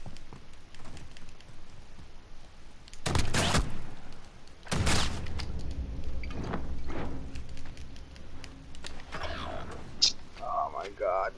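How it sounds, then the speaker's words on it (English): Shotgun blasts in an online 2v2 shooter game: two heavy, loud booms a couple of seconds apart, followed by scattered lighter game effects and background clatter. "I'm gonna rush him with the shotgun."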